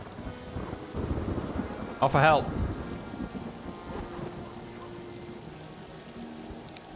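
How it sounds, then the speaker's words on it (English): Steady rain and a rolling thunderclap in the World War I trench video game All Quiet in the Trenches, the rain a constant hiss with one loud rumble partway through, and a voice speaks briefly. "It's still freaking raining, which I would love to actually end at this point."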